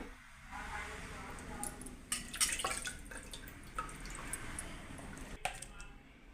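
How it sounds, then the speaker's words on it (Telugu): Water pours into a thick raw mango pachi pulusu, a soft dripping, splashing trickle with squishy stirring sounds, close and fairly quiet against a steady low background. "చాలా చిక్కగా ఉంది ఇంకొంచెం నీళ్ళు వేసుకుందాం"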